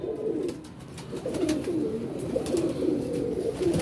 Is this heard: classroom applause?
no